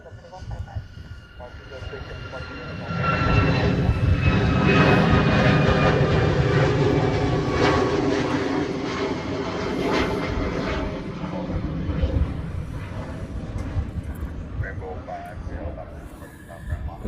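A Hawaiian Airlines airliner departing for Lihue, its engines building to a loud, broad roar with whining tones, then slowly easing while staying steady; faint radio-style voices may be present.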